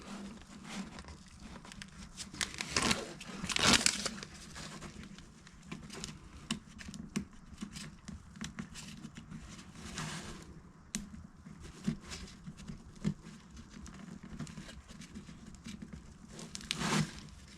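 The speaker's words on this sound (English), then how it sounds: "So we'll go ahead and peel this backing off." Adhesive backing being peeled off a Kemimoto saddlebag organizer, with a run of crackly tearing and crinkling sounds and a few louder bursts, close up and without talk.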